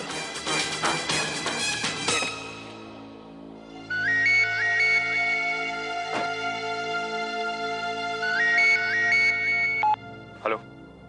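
A phone ringtone from a Hindi TV serial scene plays as a repeating electronic melody, loud and close, in two bursts after a dense musical passage, ending with a short tone.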